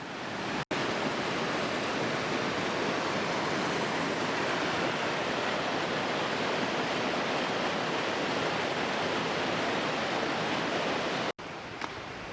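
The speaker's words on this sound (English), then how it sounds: "as you can see, we're at the falls. The kids are just playing around. It's probably a little bit loud here." A loud waterfall in Algonquin Park roars as a steady, dense wash of rushing water, unbroken and close, with no voices over it.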